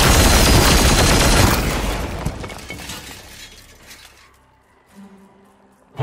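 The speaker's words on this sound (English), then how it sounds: "Firing now." Gunfire in the tabletop-inspired tactics game Warhammer 40,000: Chaos Gate - Daemonhunters, a loud dense burst of shots and shattering impacts for the first seconds, then trailing off into faint rumbling debris and a final sharp thump.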